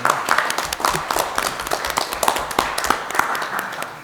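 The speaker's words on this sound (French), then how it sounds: "je pense qu'on peut lui donner une main d'applaudissement." Applause fills a municipal council meeting room, a steady patter of many hands clapping together for about four seconds at moderate loudness, with no voices over it.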